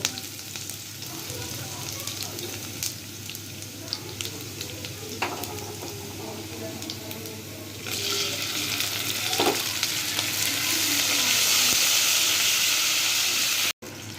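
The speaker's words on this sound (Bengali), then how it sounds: "এরপর একে একে আদা রসুন বাটা, জিরা বাটা, হলুদের গুঁড়ো, মরিচের গুঁড়ো, ধনিয়ার গুঁড়া সবগুলো দিয়ে আবার মশলাটা ভালো করে কষায় নেব।" A spice paste of ginger-garlic, cumin, turmeric, chili and coriander powder fries in oil while being stirred, a continuous hiss with spoon scrapes that swells louder and brighter toward the end, no talking.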